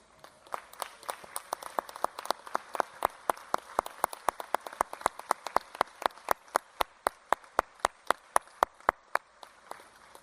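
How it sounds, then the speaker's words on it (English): Students at a commencement ceremony stand and applaud, giving a crisp run of sharp, evenly spaced claps that carries steadily for about ten seconds, close and fairly loud. "give these folks an applause, please"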